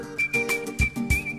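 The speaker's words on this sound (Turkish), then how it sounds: "Tek katlı evin çatısındaki bir kadın işaret parmaklarını ağzına götürmüş ıslık çalıyor." A woman on a rooftop whistles with her fingers in her mouth, a shrill, sustained whistle held at a steady high pitch, cutting through bursts of clattering background noise.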